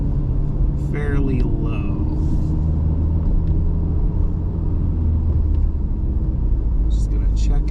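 A car drives along the road with a steady low engine rumble and road noise throughout. A person talks briefly over it near the start.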